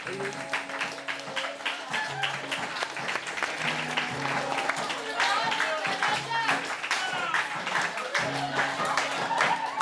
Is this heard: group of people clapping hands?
yes